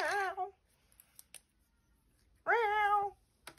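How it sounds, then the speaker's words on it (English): Two distinct cat meows, one near the start and a longer one about two seconds later, clear and close with quiet in between. "Do you hear my cat meowing?"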